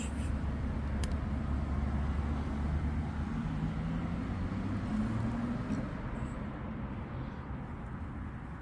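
Road traffic rolls past a roadside footpath with a steady, broad hum of passing vehicles at moderate distance, and one engine tone rises and falls as it goes by.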